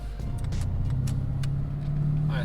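A Lexus RC F on a test drive gives a steady engine drone with a rising pitch as it accelerates, heard from inside the car, with a few light clicks over it.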